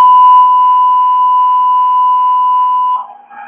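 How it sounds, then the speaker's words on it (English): A single steady electronic redaction beep from Ikena Spotlight audio software holds one unbroken pitch for about three seconds, then cuts off abruptly, leaving a faint trailing sound. "Next, we're going to demonstrate the beep option"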